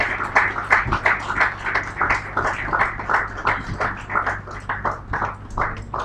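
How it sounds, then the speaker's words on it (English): An audience claps and applauds as a panel of discussants leaves the stage at a live gathering, a sustained run of dense, fairly close hand claps with no pause and no talk over it. "Please let's give them another round of applause as they exit the stage."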